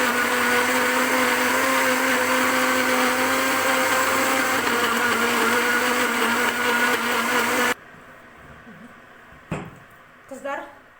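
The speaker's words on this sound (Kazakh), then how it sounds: "етімізді жаңағын барлығын араластырып блендерден өткізіп алдық" A blender whirs loudly and steadily while mixing chicken meat for homemade sausages, then cuts off abruptly, leaving a few quiet knocks and clatters in the kitchen.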